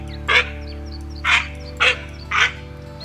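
Duck calls blown in a hunting video game set on a coast, four short loud quacking bursts spaced about half a second to a second apart over a steady background hum.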